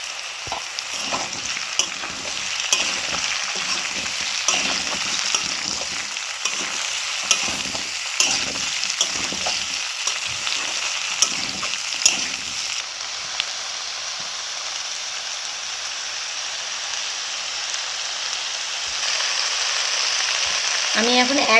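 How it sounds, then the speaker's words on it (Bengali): Potatoes and ridge gourd sizzle in a pan with salt and turmeric while a spoon scrapes and stirs in quick rhythmic strokes, the stirring stopping midway and leaving a steady close frying hiss. "আলুটা ভাজা হয়ে গেছে, এবার আমি ঝিঙেগুলো দিয়ে দেবো।"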